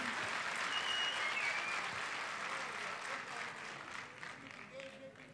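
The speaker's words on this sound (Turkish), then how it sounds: "Alkışlarla." Sustained audience applause at a Tokat award ceremony, a dense steady wash of many hands clapping that holds loud throughout, fading only slightly toward the end, with no clear speech over it.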